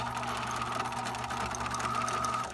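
A sewing machine stitching a seam runs steadily at close range, giving a constant mechanical whir and rapid needle chatter throughout.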